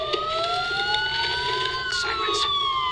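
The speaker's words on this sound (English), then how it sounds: "Sirens. The police." Wailing police sirens from Batman: Arkham Asylum rise and fall in overlapping sweeping tones, loud and continuous, with brief bursts of higher-pitched noise layered over the steady wail.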